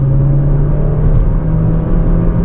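Audi A1 petrol engine revving high, a loud, steady whirring drone with a strong low rumble heard from inside the moving car, holding pitch for a few seconds without talk.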